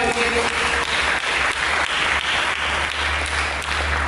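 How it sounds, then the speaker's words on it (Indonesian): Church congregation applause during an Indonesian sermon: a thick, continuous wash of many clapping hands, loud and sustained for several seconds. "Berikan tepuk tangan."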